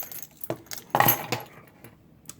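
A key ring carrying a Victorinox Classic SD pocket knife and a mini pry bar jangles, giving a few metallic clinks and a brighter rattling burst, close and moderately loud, with no talking.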